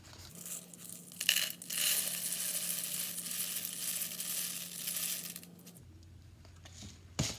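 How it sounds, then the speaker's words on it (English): Lentils filling about a quarter to a third of a tube are shaken gently, giving a soft, continuous rattling hiss that swells and settles, with a small clatter near the start and a faint tap at the end. "fill like maybe approximately a quarter to a third of this tube full of lentils, and then just kind of give it a gentle shake"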